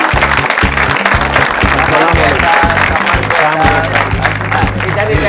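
A studio audience on a television comedy show applauds the artist Sahir Lodhi with loud, dense, continuous clapping over a pulsing music beat.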